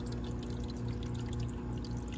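Water pours steadily into a JBJ nano aquarium being topped up by an auto top-off unit, a continuous low, dense rush with no pauses and no voices.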